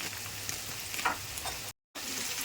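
Sliced vegetables, potato and radish, sizzle and crackle steadily in hot oil in a pan with salt, a close continuous frying hiss with light stirring noises, briefly cut off by a moment of silence.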